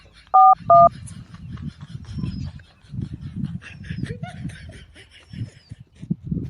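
Two short telephone keypad dialing beeps near the start, then someone talking and chuckling under faint background chatter.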